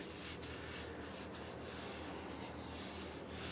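Sandpaper rubs by hand over a wooden bowl in a workshop, a faint, steady scratchy rasp with quick back-and-forth strokes throughout.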